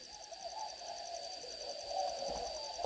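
A spotted dove gives a soft, low, drawn-out coo against a faint steady high-pitched hum, ending in a brief sharp knock, with no voices.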